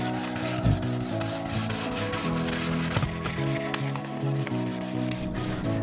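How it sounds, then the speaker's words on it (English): Fine sandpaper lightly sanding a UPVC door, close and steady soft rubbing strokes with a faint rhythmic rasp, heard alone over a low background hum. "it a very light sand down with a fine sandpaper"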